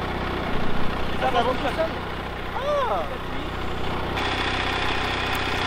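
A tractor engine idles with a steady, rumbling mechanical hum beneath a person talking, while a few brief tonal squeaks rise and fall over the idle.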